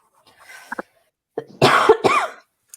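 A person coughs close by, with a few soft throat noises first and then a harsh burst of two or three loud coughs with a rasping tail.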